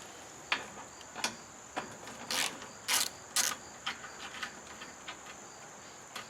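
A ratchet working 7/16-inch flare nuts off trailer tail lights gives sharp, evenly spaced clicks, with a few louder rasping bursts in the middle, close and clear over a quiet background.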